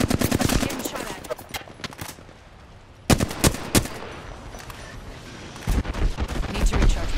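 Bursts of rapid automatic gunfire from a shooter video game, loud and close, crackling in dense volleys with a brief lull in the middle before the shooting picks up again.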